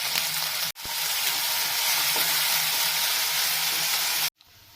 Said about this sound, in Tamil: இப்போ நம்ம வதக்கிட்டுருக்குறோம். வெங்காயம் போட்டு இந்த ஸ்டேஜில் கருவேப்பிலை போட்டுடலாம்.